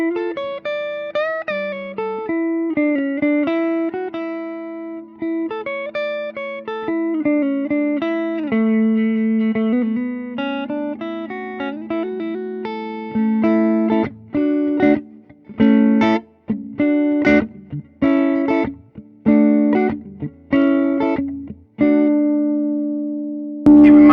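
Electric guitar played through a 1965 Fender Super Reverb amp, clean-to-driven lead lines with sustained bent notes, then choppy staccato stabs and a held final tone, played alone without talk.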